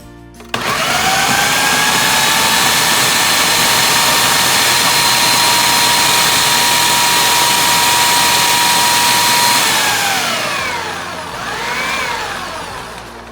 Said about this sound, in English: I have the meat in the food processor, so I'm going to go ahead and fire this up